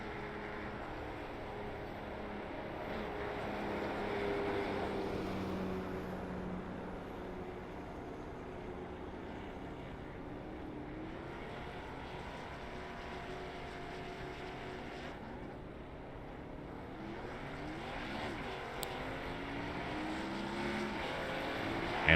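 Stock cars in an iRacing Xfinity Series sim race pull away from pit road, engines droning steadily and overlapping for the whole stretch at moderate distance, with no one talking.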